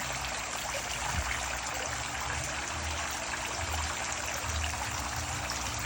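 Water from an aquarium filter trickles and splashes steadily into the filter chambers, a constant soft hissing flow with faint low gurgles underneath.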